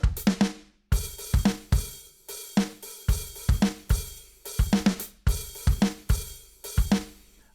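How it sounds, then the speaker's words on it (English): Classic drum kit samples from a sampler kit play a steady, punchy groove of kicks, snares and hats in repeating bars, loud and close, with no talking over it. "I mean, just classic drum sound."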